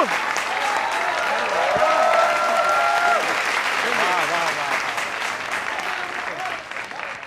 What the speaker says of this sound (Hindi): देखा कितनी अच्छी तालियां बजी है